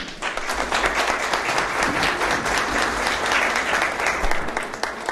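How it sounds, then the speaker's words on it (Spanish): An audience at a church studies lecture gives warm applause to welcome a professor, dense, steady clapping from a full room that lasts throughout, fairly loud and close. "le brindamos unos calurosos aplausos"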